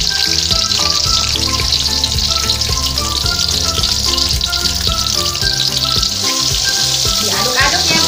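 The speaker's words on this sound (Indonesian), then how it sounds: "goreng dulu ya." Chilies fry in hot oil for sambal, a loud continuous sizzle and crackle close by, with music playing underneath throughout.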